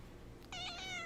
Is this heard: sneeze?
no